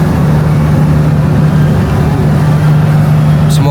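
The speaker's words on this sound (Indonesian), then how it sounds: "Ini ruang mesinnya nih." Ship's engine room at night with the engine running: a loud, steady low drone with a constant hum, unbroken for the whole stretch, with a brief higher clink near the end.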